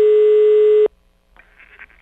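A telephone busy signal plays during a prank call: one steady, loud electronic tone that holds for just under a second, then cuts off to faint line noise and murmuring.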